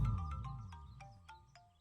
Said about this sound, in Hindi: हर 5 मिनट बिना रुकने वाला अलार्म जैसा फोन बजता ही रहता है।